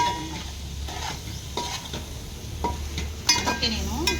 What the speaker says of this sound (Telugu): పెరుగు కూడా వేసుకుంటున్నాను ఫ్రెండ్స్